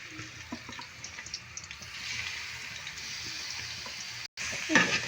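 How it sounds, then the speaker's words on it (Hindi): Finely chopped onion frying in hot ghee and oil for a chicken chana pulao, a steady low sizzle that brightens in the last second after a brief gap, with no talking. "इसको हम फ्राई कर लेंगे प्याज को"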